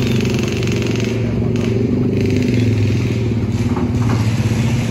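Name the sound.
many motorcycles passing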